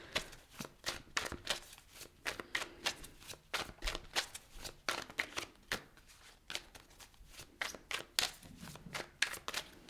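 A deck of tarot cards is shuffled close up, a quiet run of rapid riffling, flapping bursts repeating steadily with brief pauses.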